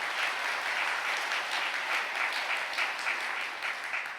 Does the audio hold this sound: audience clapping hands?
yes